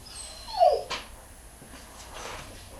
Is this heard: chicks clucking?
no